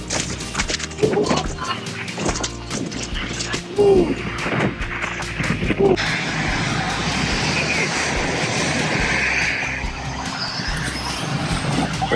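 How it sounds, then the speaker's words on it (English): A passenger jet comes in to land at Maho Beach, St. Maarten, its loud engine roar building and holding steady over the second half, after shouts and thumps from people standing close by. "We got another plane coming in."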